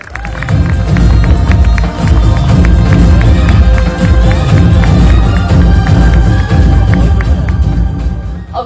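A large crowd gives loud, dense, continuous applause and cheering for an actress winning a Best Supporting Actress award at an awards night in Jaipur, with clapping and crowd noise holding throughout.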